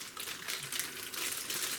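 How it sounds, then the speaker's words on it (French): Plastic packaging of a desoldering braid crinkles and rustles as it is unwrapped, close and continuous for a brief moment. "je vais vous le déballer, de la tresse à dessouder"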